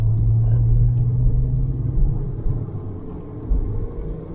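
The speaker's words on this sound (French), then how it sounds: "Ah là, le V6 il fonctionne." A warm XM V6 car engine runs steadily with a deep, heavy low rumble, close and continuous, swelling slightly a couple of times.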